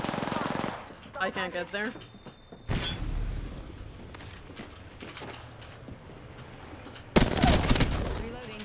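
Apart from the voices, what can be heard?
gunfire from a video game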